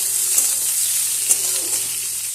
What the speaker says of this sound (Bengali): এরপর নেড়ে চেড়ে একটু ভেজে নেব